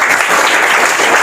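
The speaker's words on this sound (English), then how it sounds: "So clap for her." Students at an English academy clap for a classmate after a conversation competition, a short burst of dense, steady applause filling the room with no voices over it.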